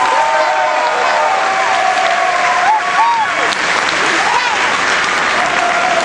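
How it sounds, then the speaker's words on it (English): Sustained applause from an audience at a senior awards ceremony honoring perfect attendance, steady and dense throughout, with some tonal whistling or voices rising over the clapping. "Please join me in giving a round of applause to 2011 perfect attendance."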